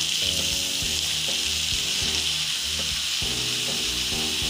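Potatoes and tomatoes for a prawn and potato curry fry in a pan with a continuous close hiss, while a low tonal music bed repeats underneath; no talk.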